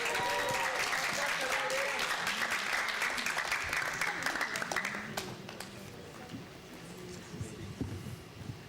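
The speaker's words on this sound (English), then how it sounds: "Round of applause." Audience applause fills a graduation ceremony, loud sustained clapping from a large crowd for about five seconds before fading into scattered claps and murmuring.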